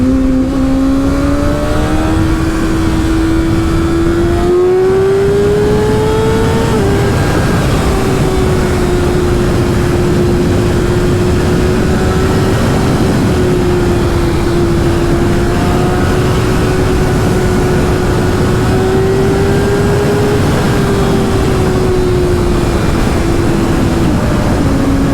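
Kawasaki ZX6R motorcycle fitted with a LeoVince LV One EVO exhaust, heard while riding: a steady, droning engine note held at fairly constant revs under heavy, rushing wind noise throughout.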